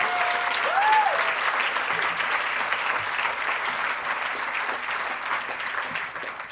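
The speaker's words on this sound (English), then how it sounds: "Let's just give them a round of applause at least." An audience at an award ceremony breaks into sustained applause, a dense steady clatter of many hands that holds for several seconds and tapers slightly, heard from within the room.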